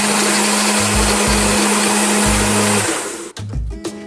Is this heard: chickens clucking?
no